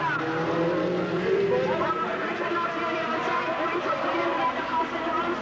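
Group four race cars roar around the Wallerfield circuit in Trinidad, a steady, continuous engine drone with shifting pitch, heard at moderate distance under a commentator's voice.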